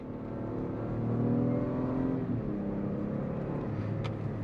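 Engine of a 2022 Acura MDX Type S accelerating under load while cornering, a steady, somewhat muted drone with rising harmonics that swell and then ease, heard from inside the cabin with no talk.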